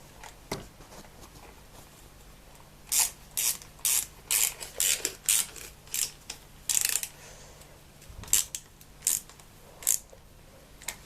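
A ratchet clicks in short bursts as screws on a motorcycle ignition cover are drawn in and tightened, quiet and close, with brief pauses between each run of clicks and no talk.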